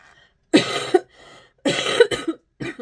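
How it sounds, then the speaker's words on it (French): Two bursts of harsh coughing close to the microphone, the second a quick series of coughs, separated by a brief quiet pause. "vous allez m'entendre tousser"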